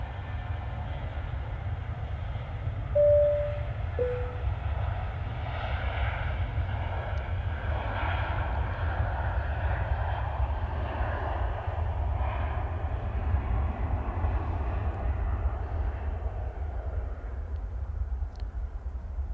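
A Jet2 Boeing 757 airliner, 37 years old, makes its final arrival, its engines giving a steady broad roar that holds throughout, with a brief tonal whine near the start and no talk.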